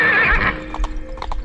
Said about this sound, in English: the horse threw him to the ground and ran off